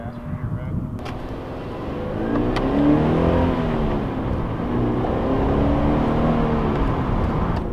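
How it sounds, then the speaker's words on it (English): A Toyota FRS fitted with HKS Hypermax coilovers pulls away, its engine rising from idle into a steady revving drone heard from inside the car, with faint voices underneath. "setting off in the FRS in its new HKS Hypermax 4 SP suspension"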